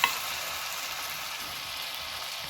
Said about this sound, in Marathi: आता आपण ह्या चकल्या छान तळून घेणार आहोत.